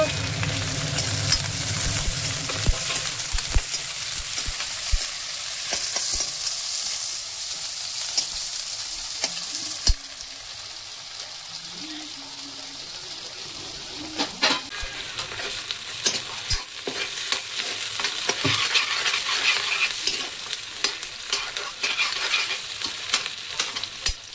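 Onion frying in a pan for a duck meat dish, a loud continuous sizzle with scraping stir strokes and occasional clinks of the spoon against the pan, close up with no talking.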